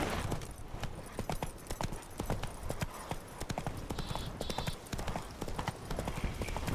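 Roach, Geralt's horse in The Witcher 3: Wild Hunt – Blood and Wine, trots with a steady, close clip-clop of hooves that runs the whole way through, with brief faint voices over the hoofbeats.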